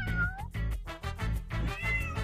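Cats meow repeatedly inside a village-swallowing video game, a rapid string of whiny, plaintive cries stacking on top of one another, loud and close with no talking over them.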